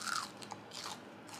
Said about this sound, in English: Let's do the crunch test.